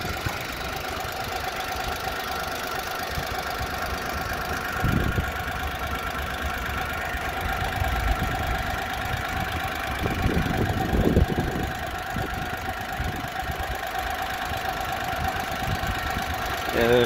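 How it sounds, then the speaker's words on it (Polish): A Daewoo Matiz's small engine idles steadily while warming up outdoors in wind, a continuous low hum with a faint knocking texture, occasional louder rumbles and brief voices in the background. "Będziemy sobie jeszcze teraz posłuchać pracy silnika, jak on tam, bo już powoli się rozgrzewa"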